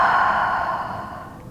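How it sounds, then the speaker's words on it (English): A single deep breath taken during a guided healing meditation, a long, soft airy exhale that fades gradually over a second and a half, close and quiet with no talking. "Let's take one more deep, deep breath together."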